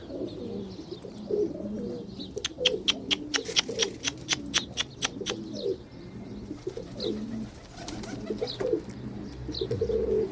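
Racing homing pigeons coo repeatedly in low throaty bursts, close and overlapping, with a quick run of sharp flapping or clicking sounds in the middle.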